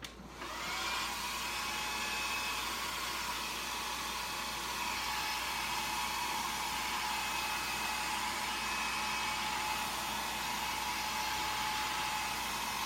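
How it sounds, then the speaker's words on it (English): A hair dryer switches on and blows continuously with a loud, steady whoosh and whine that runs unbroken to the end. "let me just grab my blow dryer."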